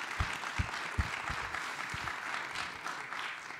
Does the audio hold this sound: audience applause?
yes